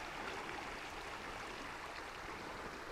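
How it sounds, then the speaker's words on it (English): Water flows steadily over rocks in a river at Dinosaur National Monument, a constant soft rushing hiss that stays even throughout, with no voices. "Right here you can hear the water rustling over these rocks."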